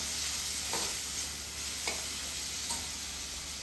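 Finely chopped tomato sautéing in a pan for palak paneer, a steady soft sizzle with a few faint stirring scrapes, fairly quiet and continuous with no voices.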